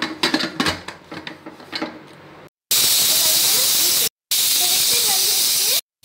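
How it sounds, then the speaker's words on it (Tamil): After some kitchen clatter, a pressure cooker cooking crab gravy releases a loud, sustained hissing blast of steam in two long whistle spurts separated by brief cuts. "இப்போ வந்து ரெண்டு விசில் வந்துருச்சு"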